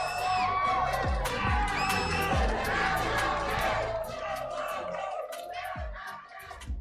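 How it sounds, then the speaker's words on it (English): A large crowd cheers and shouts in the Amazon Arena during a Mobile Legends esports tournament final, a dense, continuous roar with whoops rising over it and a few low thumps near the start. "Dude, look at the crowd."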